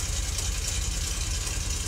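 A rough 1973 Dodge W200 pickup truck engine idles steadily, a deep low rumble with a faint knocking pulse running through it, close by and constant with no talk.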